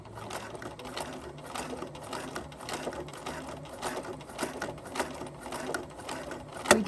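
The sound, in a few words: sewing machine stitching headband seam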